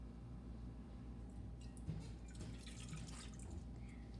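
Three-quarters of a cup of milk is poured into a mixing bowl for autumn spice muffins, giving a faint, steady liquid trickle with a few soft splashes and no talking.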